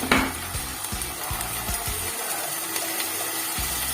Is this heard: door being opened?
no